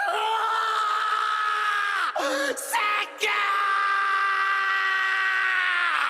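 A male anime character from Dr. Stone screams loudly and at length, with a sustained anguished yell broken by a brief gasp midway before the cry resumes and holds to the end.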